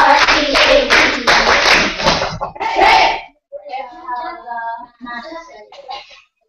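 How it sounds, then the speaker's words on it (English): Classroom of fifth-grade pupils clapping together in a loud, rapid burst of dense claps for about three seconds, followed by children's voices chanting. "let's have great clap"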